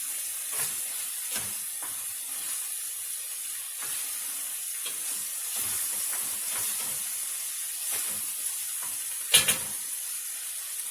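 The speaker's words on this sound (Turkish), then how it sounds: "Bu iyice kendini biberler bıraksın. iyice kavrulsun." Peppers sauté for a baked pasta dish, frying in a hot pan with a steady close sizzle and hiss, broken by occasional scraping stirs and one sharper clatter, with no voices.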